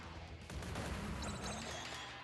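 Gunfire and a rocket blast in a fast-paced mobile racing combat game, a dense burst of loud booms and rattling shots that swells after the first half-second and stays heavy throughout.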